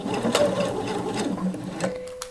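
A sewing machine bastes pleats on jersey knit fabric in a short burst of rapid, even stitching, close and clear, ending with a brief whine as it stops.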